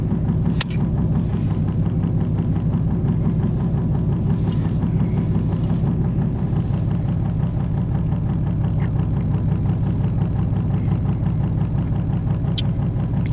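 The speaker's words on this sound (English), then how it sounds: "That's the car. That's what that noise is" An SUV engine that is not running properly idles with a low, rough, continuous rumble, loud and close, running steadily without talk.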